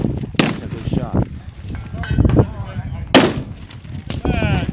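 Sharp gunshots from a shooter working through a timed string at targets on a range, several loud cracks spaced irregularly, with people talking over and between them.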